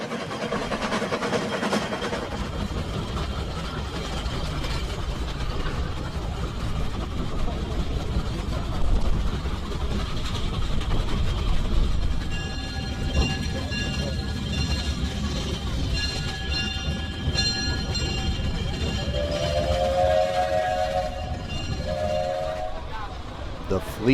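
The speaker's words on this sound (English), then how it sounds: "miscellaneous gasoline and diesel engines" Antique gasoline and diesel stationary engines running at an outdoor threshing show, a steady low mechanical drone with people talking over it and a brief higher whine near the end.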